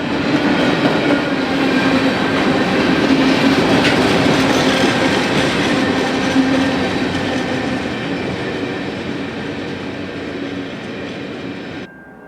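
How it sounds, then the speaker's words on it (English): A long freight train creeps up a railroad connection at a busy junction, giving off a continuous heavy rumble with wheel clatter and a faint squeal. It is close and loud, then fades slightly before cutting off. "Looking west allows us a rare glimpse at the entire train creeping up the connection to the NS."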